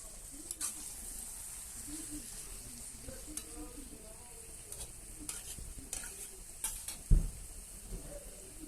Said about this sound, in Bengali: আলুটাকেও মাংসটার সাথে ভালো করে কষাতে হবে।